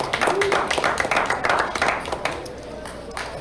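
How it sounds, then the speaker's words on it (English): A crowd at a poker tournament final table claps for a player, a dense burst of hand clapping that rises quickly and then tapers off, with voices mixed underneath. "A round of applause, please, for Mark Linsenbigler."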